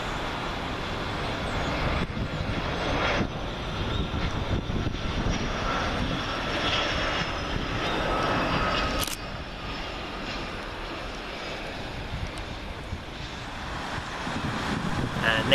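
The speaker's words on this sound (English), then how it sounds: "Next up we have privately owned Dassault Falcon 50EX, registration Mike Oscar Delta Uniform Sierra, working a flight in from Dundee." A privately owned Dassault Falcon 50EX business jet arrives on runway 23R at Manchester Airport: a steady broadband engine roar heard from a distance outdoors, with some wind noise on the microphone.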